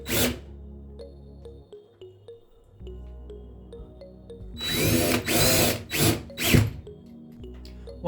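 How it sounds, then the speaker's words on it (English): A power drill drives screws into drywall anchors in a wall while a smoke and combo detector's wall plate is mounted, giving a couple of short, loud close-up bursts of whirring. "install two drywall anchors and just screw them"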